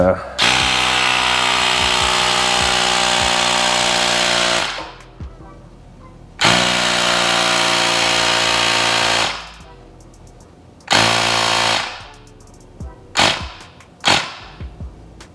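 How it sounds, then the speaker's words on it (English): A Ryobi cordless tire inflator clamped onto a tire valve stem buzzes loudly and steadily in three long runs, then stops and starts a few times in short bursts near the end. "So I have this Ryobi little tire inflator thing."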